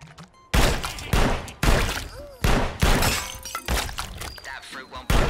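Repeated loud gunshot bursts in the PSVR arcade shooter Shooty Fruity, set in a shopping center, firing in rapid irregular volleys with short gaps between, close and punchy with faint game sounds underneath.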